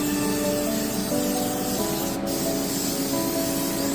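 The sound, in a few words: greasing a baking pan with canola oil cooking spray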